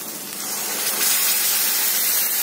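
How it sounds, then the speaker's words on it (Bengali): Water poured from a container into a pan of dry fish curry, a steady rushing gush lasting a couple of seconds, close and fairly loud with no talk. "আমি সামান্য একটু জল দিয়ে দিব।"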